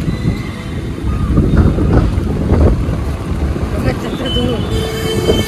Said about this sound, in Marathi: खूप वारा सुटलाय.